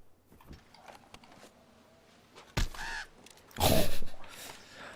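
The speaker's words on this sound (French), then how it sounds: "Grand corbeau." A large raven calls in Red Dead Redemption 2, two harsh caws spaced apart over a quiet outdoor game ambience, the second louder and longer.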